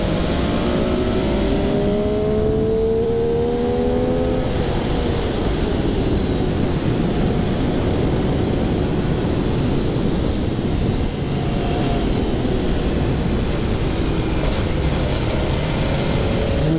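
An MV Agusta F3 800 motorcycle, a 2020 model, engine braking while riding downhill: a steady engine drone with a falling pitch early on, under constant loud wind rush.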